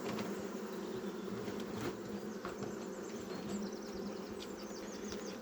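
Honeybees buzz steadily in a dense, humming swarm, close and continuous, with no voices.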